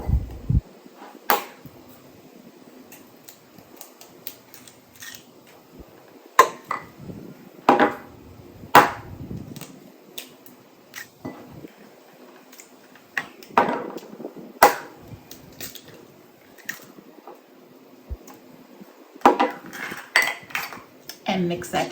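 Eggs being mixed into cake batter for a lemon zucchini bundt cake, with repeated sharp clinks and scrapes of a utensil against a bowl, in irregular bursts close by.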